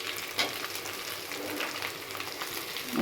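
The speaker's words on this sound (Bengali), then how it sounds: "এই মশলাটাকে আমি ভালো করে কষিয়ে নেব।" Ginger, garlic, cumin and black pepper paste fries in a pan with a steady, close sizzle and crackle, and no talking.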